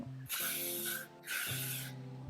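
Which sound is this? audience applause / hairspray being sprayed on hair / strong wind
hairspray being sprayed on hair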